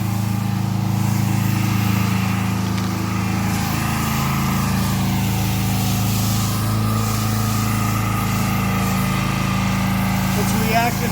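Pressure washer engine running steadily with the revs turned down about a quarter, a loud continuous drone at close range during tile roof and paver driveway cleaning, unchanging throughout.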